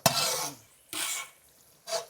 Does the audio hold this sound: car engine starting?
no